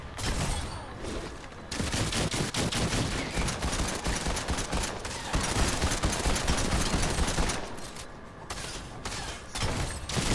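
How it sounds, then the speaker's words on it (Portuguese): Shotgun blasts in the Fortnite video game come amid dense, relentless gunfire that stays loud and crowded throughout, with heavy overlapping reports and no pause. "Vou dar dois tiros de escopeta na cabeça dela."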